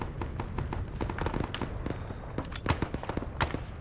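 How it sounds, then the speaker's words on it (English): Napalm strike and surrounding explosions in the Arma 3 Vietnam-era combat game, heard as a dense run of sharp cracks and dull thuds over a rumbling background, loud and continuous with several heavier bursts. "Whoa, napalm! Napalm!"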